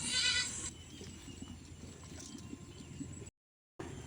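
Goats bleat at a farm while eating feed, with one bright bleat at the start, then a steady rustle of munching and shuffling and a brief dropout near the end.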